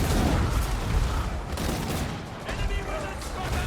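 Dense cannon and artillery battle from the video game Total War: Warhammer, with continuous rumbling gunfire and booms filling the mix, loud and steady throughout, with a voice talking over it.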